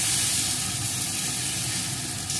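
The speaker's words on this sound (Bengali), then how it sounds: "উল্টে নিয়ে এই পিঠটাও সুন্দর করে ভেজে নেব" An oats omelette sizzling in a pan on low heat after being flipped, a steady close-up frying hiss without any talk.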